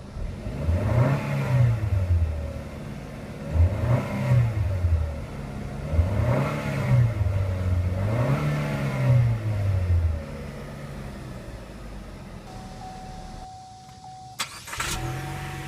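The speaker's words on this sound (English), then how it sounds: "start it up, and see how it sounds" A 2014 Chevrolet Sonic LTZ Turbo starts up and revs in four rising and falling sweeps, loud and close, before the engine settles and a brief mechanical clunk follows near the end.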